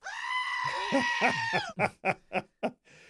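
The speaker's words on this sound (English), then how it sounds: "The screaming goat sound effect for panicans. That's actually a goat" A goat lets out a long, strained scream that breaks into a run of short, choppy bleats, close and loud.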